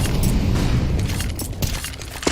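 A flashbang grenade thrown in the video game CS:GO, a short burst of booming impact with rattling clatter, loud and close, fading quickly before a few sharp knocks.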